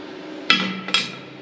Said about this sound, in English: I'm going to throw these bearing caps in there as well.